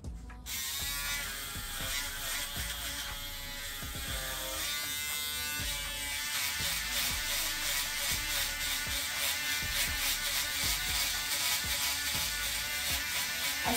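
Electric shaver buzzing loudly and continuously up close, with a rattling mechanical whir that starts abruptly and runs steadily with slight pulsing, no talk over it.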